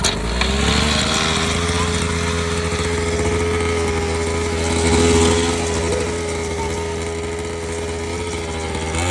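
A child's motocross motorcycle engine catches and settles into a buzzing, high-revving idle, close and steady with a brief rise midway, heard alone without talk.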